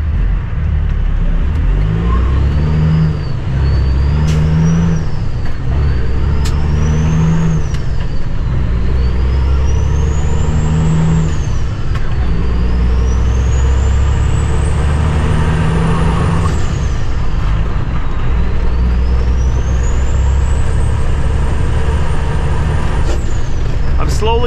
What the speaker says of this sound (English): Getting better at shifting this truck.